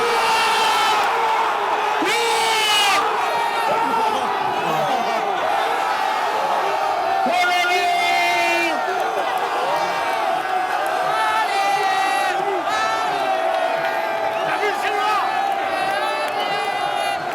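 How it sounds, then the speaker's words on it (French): Olympique de Marseille football supporters chanting and shouting together in the curved stadium stands, a dense, loud crowd roar with rising bursts of voices sustained throughout. "Cette ambiance qu'il y a dans les virages, ça chante, ça crie"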